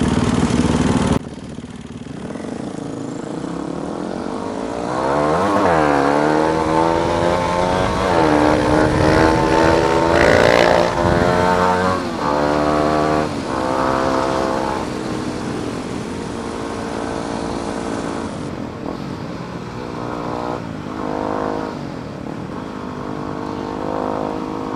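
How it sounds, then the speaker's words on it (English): A loud motorcycle with a loud exhaust roars and revs steadily throughout, its harsh exhaust note rising and falling with no voices. "another friend with a loud exhaust"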